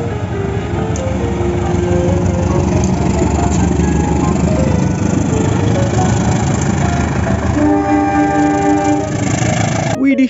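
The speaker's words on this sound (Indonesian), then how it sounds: "Ada lokomotif CC201, teman-teman." A toy CC201 locomotive runs with a loud, steady mechanical whir and hum that stays even throughout, with a shifting tonal drone near the end.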